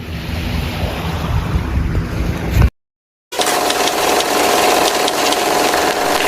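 Sea waves and strong wind roar continuously, a dense, loud wash that drops to total silence for under a second before surging back, suggesting ships sailing in Balinese waters.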